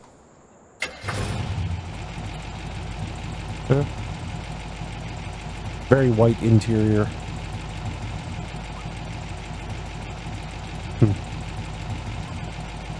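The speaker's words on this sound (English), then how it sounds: "Start the engine. Hear what it sounds like." A vehicle engine in Farming Simulator 17 cranks and catches, then settles into a steady, even idle that runs to the end, with a brief burst of revving partway through and a voice talking over it.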